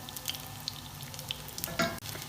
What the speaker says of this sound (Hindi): मीडियम लो फ्लेम पर दोनों तरफ से फ्राई करके दे देंगे प्यारा सा कलर